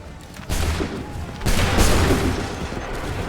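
Musket volleys fired by massed soldiers in the video game Assassin's Creed 3: loud, crackling bursts of many overlapping shots, one volley followed by a second, heavier one.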